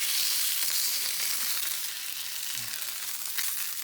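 Steak searing in a hot pan: a loud, continuous hissing sizzle that stays dense and bright throughout, with a slight dip after the flip and a soft bump near the end.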